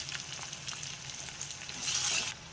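Finely chopped garlic frying in a pan, a quiet, close hiss of sizzling oil that rises into a louder burst near the end, with light stirring sounds and no voices.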